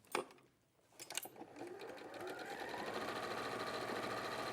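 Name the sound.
sewing machine sewing on a fabric strip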